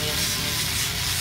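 An angle grinder fitted with a sanding disc sands a resin table, giving a loud, steady, abrasive rushing whir that continues without a break.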